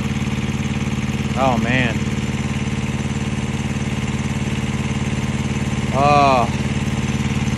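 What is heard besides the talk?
truck APU compressor kicking in, engine running smooth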